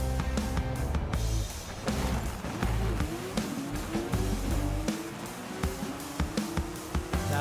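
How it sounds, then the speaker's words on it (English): A 2021 Porsche 911 GT3 races down a drag strip in Forza Horizon 5, its engine revving hard through rising gear pulls with shifts along the way, loud and continuous with no talk. "let's hop on the drag strip and see what this car can do"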